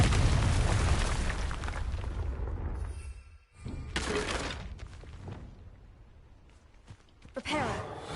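Confringo fire spell exploding in Hogwarts Legacy, a heavy booming blast at the start that rolls off, followed by quieter thuds and a few sharp hits, with a voice speaking at times.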